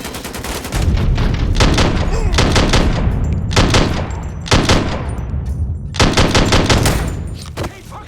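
Gunfire in the video game Mafia III, with loud bursts of automatic fire and single shots crackling in several dense volleys separated by short gaps, and a voice shouting briefly among them.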